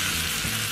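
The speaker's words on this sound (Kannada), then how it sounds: "ಇವಾಗ ಒಗ್ಗರಣೆ ಹಾಕ್ತಾ ಇದ್ದೀನಿ" Mustard seeds tempering in hot oil for coconut chutney give a steady, close frying sizzle that runs without a break and without speech.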